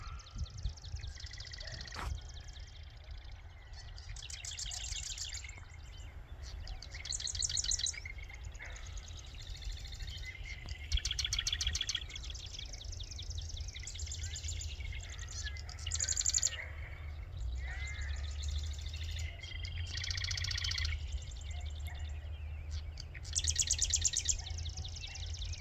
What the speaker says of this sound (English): I'm not sure what kind of bird that is. Tiny little thing though.